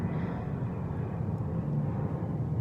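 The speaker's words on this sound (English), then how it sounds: "I don't know if you can hear that airplane" A fixed-wing airplane passes overhead as a steady, low broadband engine rumble that stays fairly constant throughout, with no talking.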